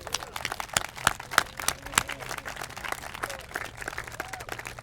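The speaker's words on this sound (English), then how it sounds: "we owe her a real round of applause" An outdoor crowd at a memorial groundbreaking applauds for Doreen with scattered, crisp hand claps at moderate distance, irregular and fairly light, while faint background murmur runs underneath.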